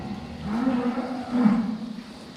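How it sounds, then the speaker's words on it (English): Escaped cows on a farm mooing near the field, with two drawn-out, low lowing calls one after another, loud and close with no talking. "One way to get cows back into their pen once they've escaped."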